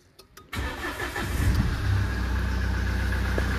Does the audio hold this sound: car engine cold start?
yes